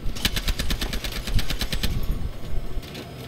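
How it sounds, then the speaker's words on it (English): Rapid automatic gunfire from a Battlefield Hardline multiplayer match, with dense bursts of shots in the first two seconds, then continuing scattered fire and battle noise. "Who's shooting? Who? Where?"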